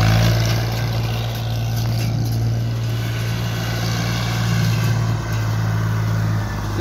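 A Massey Ferguson MF 135 tractor pulls away fast on an obstacle course between marker buoys at a tractor competition, its engine a steady low drone with a constant hum, fairly loud and without speech.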